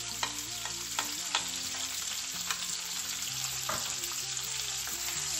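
Fried onions with parsley and green onion are stirred in a hot pan, a continuous close sizzle punctuated by repeated light scrapes and taps of the utensil.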